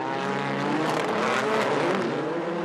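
Rallycross car engine roaring steadily and loudly on the new Yas Marina circuit in Abu Dhabi during 2019 FIA World Rallycross qualifying, a continuous close drone with slight rising pitch.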